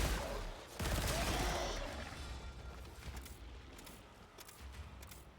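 Sustained automatic gunfire from the Warframe video game, a dense burst of rapid shots that starts loud and tapers into scattered, quieter shots and impacts, with no talk over it.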